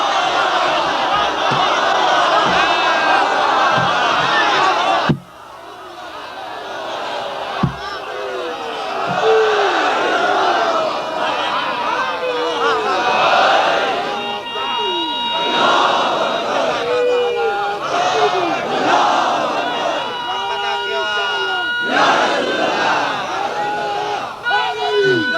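A large crowd at a religious majlis gathering chanting slogans in loud unison, sustained roaring waves of voices that swell and repeat throughout, close and dense.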